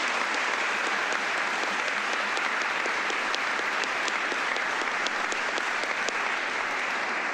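Audience at a retirement ceremony applauding a retiring staff member, sustained clapping with distinct individual claps standing out from the steady patter, moderately loud and even for the whole stretch.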